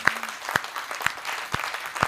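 Audience in a hall clapping at a Hindi comedy poetry gathering, a steady patter of hands with sharper bursts recurring about every half second, moderately distant and without voices.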